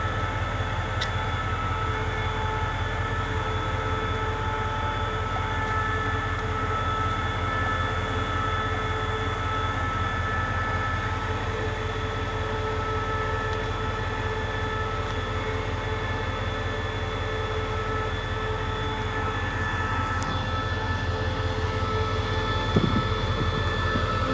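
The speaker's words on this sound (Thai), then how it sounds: "ผู้โดสารโปรดทราบทางสถานีจะปล่อยขบวนรถจอดเทียบในชานชลาที่หนึ่ง" Express train 102 from Chiang Mai to Bangkok stands at the platform at Bang Mun Nak station, its engine giving a loud, steady low rumble and hum that runs unbroken for the whole stretch.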